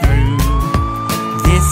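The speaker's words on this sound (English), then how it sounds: "Sirens on, move aside!" A cartoon emergency vehicle siren wails loud and close in a steady rising tone over bouncy children's music, with short musical accents punctuating it.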